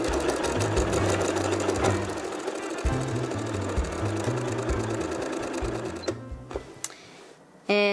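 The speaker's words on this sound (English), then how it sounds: "Let's get sewing." A sewing machine stitches fabric for a casserole dish carrier in rapid mechanical bursts, stopping and restarting several times, close and clear with no talking.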